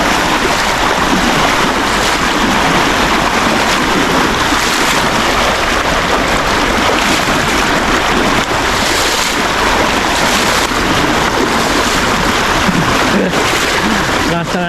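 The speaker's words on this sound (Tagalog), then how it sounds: "Lakas ng agas dito" A strong river current rushes loudly and steadily throughout, a dense continuous wash of water close to the microphone, with wind buffeting mixed in.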